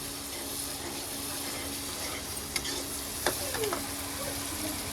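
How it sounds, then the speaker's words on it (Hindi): Spices sizzling and frying together in a pan before potatoes go in, a steady close hiss with a few scraping stirs and clinks partway through. "ऐसे मिसाले इकट्ठे फ्राई करना चाहिए।"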